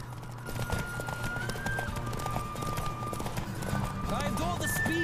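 Hooves pounding at a steady gallop during a ride in the video game The Witcher 3, mixed with game music and a whinny near the end, with talk in the background.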